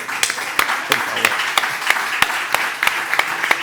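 Studio audience applause on a Spanish political talk show, rhythmic and somewhat sparse clapping with distinct, regularly spaced claps and a voice speaking over it.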